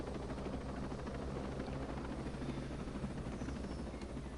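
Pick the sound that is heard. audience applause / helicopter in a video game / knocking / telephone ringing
helicopter in a video game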